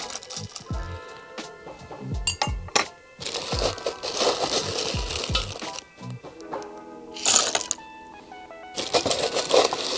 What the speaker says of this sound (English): I'm just going to give this a quick stir